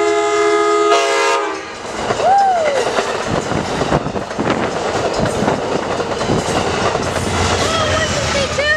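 A train horn blasts loudly for about two seconds at Rancho San Juan Capistrano, then a train rushes close by with roaring wheels, rattling cars and steady clickety-clack, plus faint squeals.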